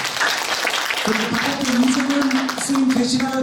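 An indoor audience at a formal event applauds warmly for someone being thanked, with a steady patter of clapping running under someone speaking into a microphone.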